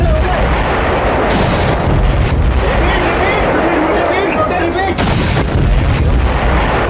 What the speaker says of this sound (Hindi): एक के बाद एक पाकिस्तानी बंकर और चौकियों पर गोले बरसने शुरू हो गए